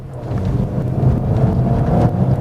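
Remapped Suzuki Ciaz after a Stage 1 ECU remap, its engine and rear exhaust giving a steady low rumble while driving, loud and continuous under road and wind noise.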